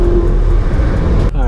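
A manual Audi R8 V8 with a loud exhaust drones steadily in a brief close burst, a deep continuous engine tone.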